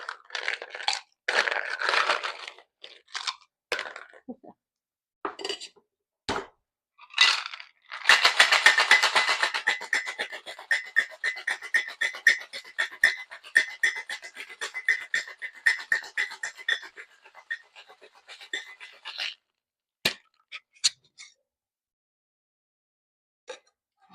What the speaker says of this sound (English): we are going to shake for 15 to 20 seconds until it's ice cold in our hands